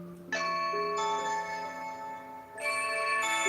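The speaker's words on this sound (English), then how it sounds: "Let me hit the notification. Let's see what it says." A phone alert from a home security camera app plays as a short melodic chime, with bright tones in two bursts and a pause between them. The alert sounds clear and close.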